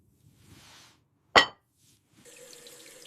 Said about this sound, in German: Ich spüle die Gläser.